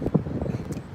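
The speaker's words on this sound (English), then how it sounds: "So you probably can hear the wind in the background." Wind buffets the microphone outdoors on Woodward Avenue, a low rumbling gusty roar that surges near the start and then settles into a steady whoosh, with no talk.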